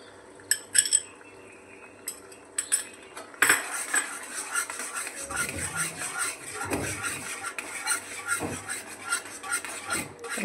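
Yogurt is stirred into a paneer curry in a pan: a few sharp spoon clinks on the rim at first, then continuous wet stirring and scraping with soft metal taps.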